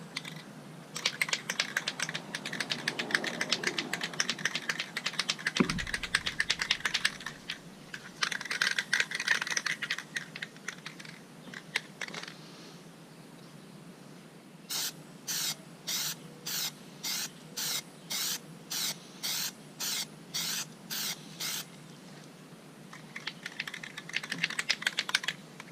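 Plastidip sprayed from an aerosol can over a masked-off bubble repair: long hissing passes with pauses, then a run of about ten short, even bursts, close and clear with no talking.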